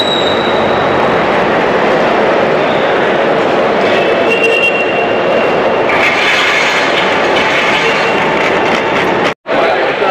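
Inside an airliner cabin on a Singapore to Chennai flight, steady jet engine roar fills the air as the plane descends toward landing, loud and constant, broken only by a brief dropout near the end.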